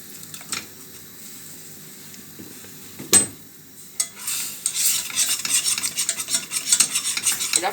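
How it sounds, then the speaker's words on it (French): Crêpe batter is whisked vigorously in a bowl, starting with a few isolated knocks and clinks, then building into fast rhythmic scraping and swishing strokes, close and loud. "Et là, il faut mélanger énergiquement pour éviter d'avoir des grumeaux et avoir une pâte assez souple."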